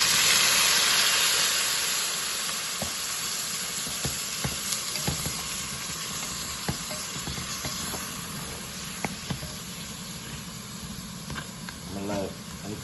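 Water hitting a hot pot of Jamaican brown stew goat meat, a loud broad sizzling hiss that gradually settles into steady bubbling with scattered pops and light stirring clinks.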